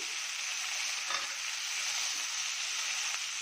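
Beans tipped into a hot frying pan with other ingredients for a gravy dish, sizzling in a steady, soft hiss with faint stirring.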